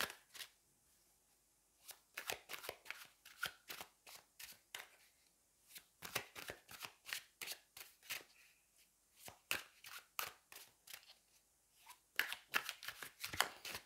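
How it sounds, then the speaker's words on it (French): Tarot cards shuffled by hand in quick riffling bursts, crisp and close, coming in several clusters with short pauses between them and no speech. "Alors, je les mélange bien parce que je les ai utilisés pour un tirage privé l'autre jour."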